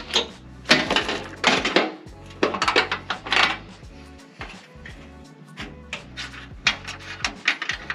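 An impact wrench removes 10mm heat shield bolts during a front pipe and exhaust install on a Honda Civic Type R, giving repeated short, loud rattling hammer bursts separated by brief pauses, close by.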